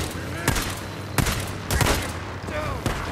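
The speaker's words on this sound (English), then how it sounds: "why are you guys shooting at me?" Gunfire in the video game Days Gone comes as several sharp shots and short bursts over about three seconds, loud and close, over a dense game soundscape with a voice talking faintly.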